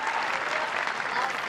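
A tennis crowd at the Australian Open qualifiers applauds an Australian player, producing a dense, steady wash of clapping hands with no distinct voices.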